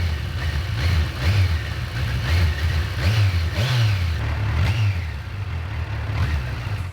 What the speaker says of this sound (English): this 4-cylinder 1043 cubic centimeter engine makes the ground shake. It is so deep in sound